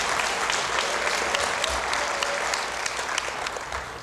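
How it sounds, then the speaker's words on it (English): An audience at a students' speech contest gives a sustained round of applause, dense steady clapping throughout that tapers slightly at the end. "one last final applause for all these students"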